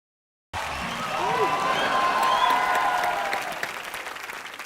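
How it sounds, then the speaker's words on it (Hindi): A studio audience on a Colors TV entertainment show breaks into applause that swells to a full, dense clapping peak, then slowly tapers off, with some cheering and voices underneath. "इतना लोग के सामने कभी ऐसा मेरा ताली नहीं बजा है मेरे गांव में कोई"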